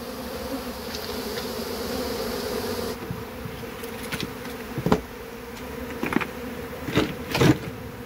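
A steady, dense buzzing of many honeybees hums throughout, with occasional brief clicks and taps close by.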